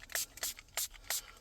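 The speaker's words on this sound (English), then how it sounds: "I'll spray the screen." Solution is sprayed onto a 2025 Toyota Tacoma infotainment screen before fitting protection film, with four short, close hissing bursts from a trigger spray bottle at a steady rhythm.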